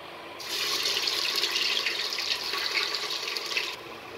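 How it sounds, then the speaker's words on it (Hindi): Chopped onion drops into smoking hot oil and begins frying, a sudden loud steady hiss that holds for about three seconds and then cuts off. "अब मैं इसमें ये चॉपर करी हुई प्याज को ऐड करूंगी और फ्राई करूंगी"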